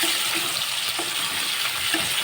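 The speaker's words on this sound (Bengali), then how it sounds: "আলুটা ভাজা হয়ে ব্রাউন কালার করে ভেজে নেব" Potatoes frying in a pan to a brown colour for a vegetarian potato, capsicum and paneer dish, a steady close sizzle and hiss running without pause, with no talking.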